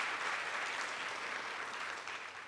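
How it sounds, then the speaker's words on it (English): An audience at a literacy leaders summit claps for teachers, a continuous dense round of applause that holds steady and tapers slightly at the end, with no voices. "You should be clapping."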